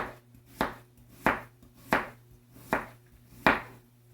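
A knife chops onions on a board in six distinct, evenly spaced strikes, each a crisp close thud, with quiet background hum between cuts.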